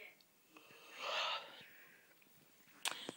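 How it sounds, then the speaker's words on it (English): A cat snores quietly indoors. It gives one soft, raspy wheezing breath in the middle, with faint snuffles and small sounds around it. "I have a snoring cat."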